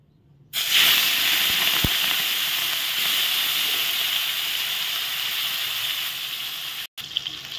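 Fish dropped into hot oil sets off a sudden loud, hissing sizzle that holds steady and close for several seconds, then cuts out briefly near the end.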